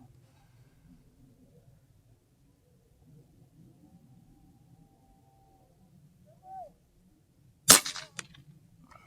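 A single sharp report from an Umarex Gauntlet .25 caliber air rifle rings out near the end after a long quiet stretch, preceded by a faint brief click, with low outdoor ambience around it.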